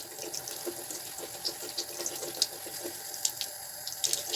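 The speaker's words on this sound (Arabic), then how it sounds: "هنايا نشعل شويه ماء ونضرب بنفس الطريقه" Water runs thinly from a tap over a beauty blender being washed in a sink, a faint steady trickle with small splashes and squeezes, soft and close, with no talking.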